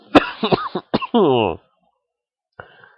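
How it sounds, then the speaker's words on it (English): A few short, harsh coughs close up, followed by a strained rasping clearing, then quiet and a faint brief cough at the end. "Anyone hearing me cough half the video?"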